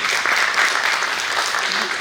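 Audience applause at a Jain religious gathering, a short, dense wash of clapping heard close and steady throughout, with faint voices underneath.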